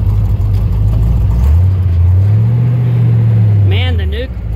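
A carbureted Corvette is driven, its engine a steady low drone that rises slightly as it pulls away, with a brief wavering whine near the end over continuous road rumble.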